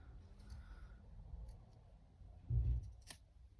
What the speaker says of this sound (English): I'm going to cut that right on that seam